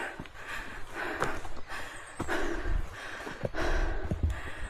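A hiker labours up a steep trail on Mount Jimba in Kanagawa, Japan, breathing in heavy, rhythmic, close-up pants and gasps with a few scuffing footsteps.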